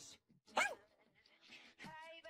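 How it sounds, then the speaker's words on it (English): A pet dog gives a couple of short, sharp barks, one near the start and another toward the end, loud and close, with a brief whine-like voice sound in between. "My childhood dog, Biscuit!"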